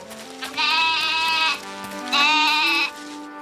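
Two drawn-out cartoon goat bleats from the animated series Niloya, each about a second long, loud and close, separated by a short pause.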